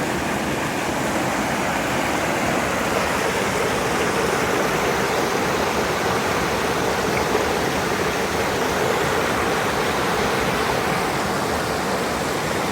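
A river rushes over boulders, a loud, continuous broadband roar of churning water, steady and close throughout with no voices.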